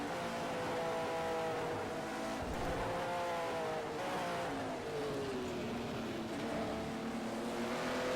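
A race car at Mount Panorama engine howling through the last corners, harmonic revs rising and falling as it brakes and accelerates between bends, loud and continuous with no voices.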